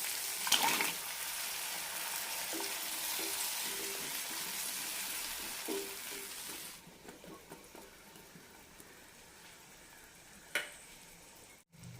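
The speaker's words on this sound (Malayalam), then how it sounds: "ഇതിലേക്ക് ഉരുളക്കിഴങ്ങ് ഇടാം." Potatoes fry in curry masala, a loud hissing sizzle with light stirring scrapes that drops to a quieter, duller simmer partway through, ending with a brief clatter.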